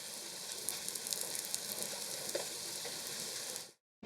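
Black sesame crepe batter cooks on a hot griddle in a Kyoto crepe shop, giving a steady, even sizzle with faint crackles throughout that cuts off abruptly at the end.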